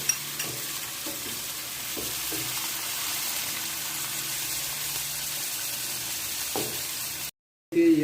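Spiced masala mixture sizzles steadily in a pan as it is stirred into frying onions for a Pakistani aloo chicken dish, with a few scraping knocks of the spoon and a brief cut near the end.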